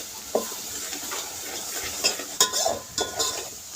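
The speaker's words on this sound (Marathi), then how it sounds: "याला सुद्धा छान असं परतून घ्यायचं आहे" Ginger, garlic and coconut paste sautéed in a pot over a wood-fired stove for egg biryani, with a soft sizzle and a few sharp scrapes and clinks of a spoon stirring, fairly quiet and with no talking.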